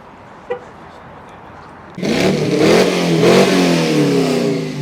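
A Chrysler by Chrysler car from about 1971 at an outdoor car meet; after a faint short noise, the engine bursts into a loud, close rev around two seconds in and holds a throaty, rising roar to the end.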